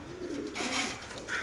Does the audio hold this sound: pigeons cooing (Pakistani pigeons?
yes